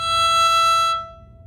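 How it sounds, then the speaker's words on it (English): A single bowed note on a violin's highest string, the E, rings clear and sustained, then stops and fades into a quiet room. "The highest string sounds like this"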